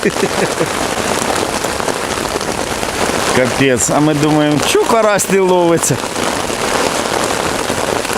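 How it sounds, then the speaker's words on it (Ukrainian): Heavy spring rain pours steadily outdoors at a fishing spot, a dense continuous hiss drumming on surfaces, with people talking over it. "Оце поливає, друзі."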